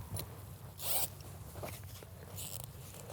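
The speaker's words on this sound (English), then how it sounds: "Cover him up with the sling and do up the zips." A carp weigh sling is zipped shut over a fish on the bank, giving two quick, close zipper pulls separated by quieter rustling.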